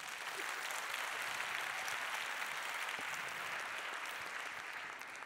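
Audience applause for three children, Élise, René and Nicolas, at a conference on healthy eating and exercise; continuous, even clapping from a moderate crowd, heard fairly faintly and steadily throughout.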